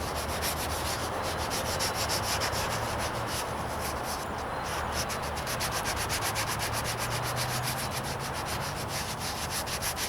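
Gloved hand rubbing steadily across the rattle-can painted hood of a 1998 Toyota Corolla being wet sanded, a continuous close, even scraping rub lasting throughout with no talk.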